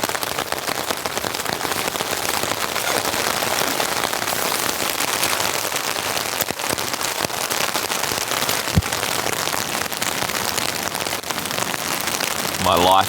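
Heavy rain pounding on a camping tent during a rainstorm, a dense, loud and continuous patter of close drops with occasional sharper pops, steady throughout.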